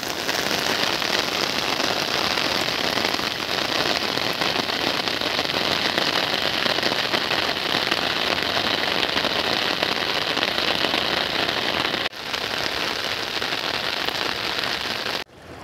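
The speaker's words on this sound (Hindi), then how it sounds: "पर अब बहुत तेज़ी से पानी गिर रहा है।" Heavy rain pours down over rice paddies being planted, a loud, dense, unbroken hiss of downpour that continues steadily before briefly dropping off near the end.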